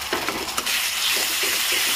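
Onions frying with ginger-garlic paste in a pan, a steady close sizzle with a few scraping stirs near the start.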